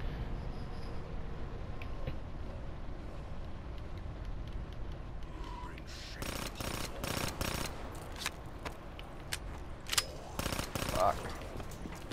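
Gunfire in the Call of Duty zombies map Der Eisendrache: a quiet stretch of game ambience, then repeated bursts of rapid shots in the second half, with a player's voice heard in places.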